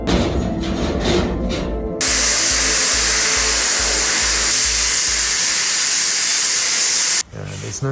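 Loud, steady hissing roar of a wire wheel grinding a Suzuki RM 125 motorcycle rim, running close and continuously for about five seconds before cutting off abruptly.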